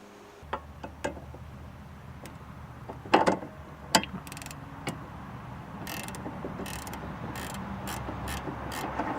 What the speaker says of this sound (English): So that it'll hold the stud steady while you loosen the nut.